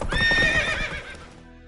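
Roach, a horse in The Witcher 3 video game, gives a short, loud whinny up close. The neigh rises and then trails off, with soft hoof clops underneath.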